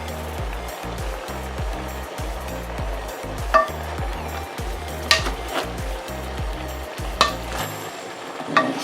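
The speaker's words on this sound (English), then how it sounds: "I'll put the spinners in and stir it again" A pot of Jamaican vegetable stew is stirred with a utensil in a steady rhythm of scraping strokes, with occasional sharper clinks against the pot and a soft sizzle beneath.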